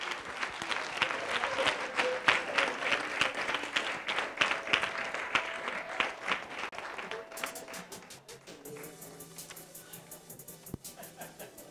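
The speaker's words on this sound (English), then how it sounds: "Let's give our big winners a round of applause once again." Audience at an urban business storytelling competition applauding its winners: crisp individual claps and light laughter build to a loud burst, then thin out and fade as quieter room sound and faint talk take over near the end.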